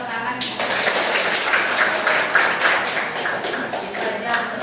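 An audience claps their hands together in a burst of applause at the close of a gathering, dense and fairly loud, with a voice speaking over part of it.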